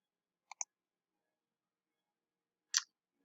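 Faint mouse clicks on a link: a quick double click near the start, then a single, slightly sharper click later, all against near silence.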